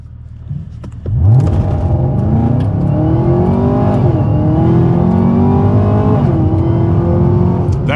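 A Camaro ZL1 1LE is launched on a dyno in wet mode: after a brief lull, the engine bursts into a loud, close rev that climbs, then drops and climbs again at each gear change, roaring steadily through the runs.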